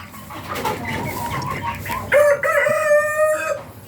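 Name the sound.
rooster crowing and chickens in a coop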